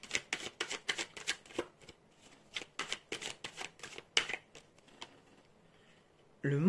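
Tarot cards shuffled in quick riffling bursts, a rapid series of crisp flicks and snaps for several seconds, then quieter handling before a voice speaks at the very end.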